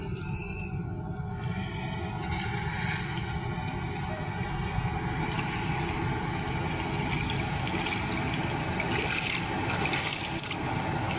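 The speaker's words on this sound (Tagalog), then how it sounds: "Malakas pa rin ang agos, oh." Strong, muddy river current after a typhoon, flowing through a rubber gate and carrying drifting grass: a continuous broad rushing roar of water, steady and fairly loud from start to finish.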